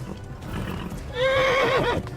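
A horse in the medieval video game Kingdom Come whinnies loudly in a rising, wavering call over a bed of game ambience, with no talk over it.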